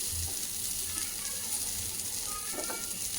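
Chana tikki shallow-frying in a little oil over a low flame, a steady soft sizzle with faint crackles running throughout, close and even with no talking.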